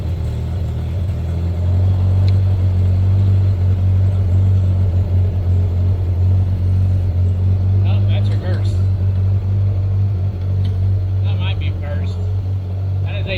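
A 1954 Willys military jeep engine idles with a low, steady rumble close by throughout, with a few brief voices and small knocks partway through.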